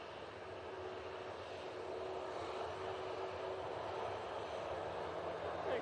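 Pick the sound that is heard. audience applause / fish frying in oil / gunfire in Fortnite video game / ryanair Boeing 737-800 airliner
ryanair Boeing 737-800 airliner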